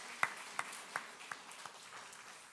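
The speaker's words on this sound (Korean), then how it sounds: "하나님께 우리 감사의 박수 드릴까요?" A handful of sharp, separate claps from a church congregation, loudest at first and then thinning into faint scattered claps over a couple of seconds.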